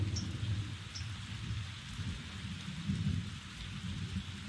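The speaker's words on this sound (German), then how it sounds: "Das ist schon geil, ich liebe Donnerblitz." Heavy rain pours steadily outdoors with a deep, low rumble of thunder rolling underneath, loud and continuous, with no talking.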